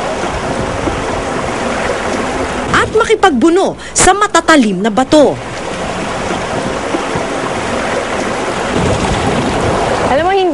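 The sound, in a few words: rushing river water during boat ride to Pagsanjan Falls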